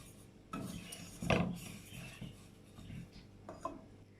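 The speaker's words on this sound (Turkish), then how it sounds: "Karıştırıyorum şöyle" Dry sugar, flour and starch being stirred together in a pot for a banana Malaga cake, a soft rasping, scraping sound with a few louder scrapes, close and fairly quiet, with no talking.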